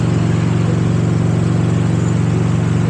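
Motorcycle engine while riding near an airbase in mild weather, a steady droning hum with constant low rumble and wind, loud and continuous with no talking.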